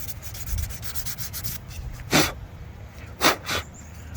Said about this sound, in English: let's just give it a quick once over with some light sandpaper